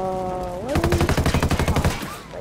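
Automatic gunfire in a military roleplay game, a fast, steady burst of about fifteen evenly spaced loud shots after a brief rising tone, ending with a short trailing sound.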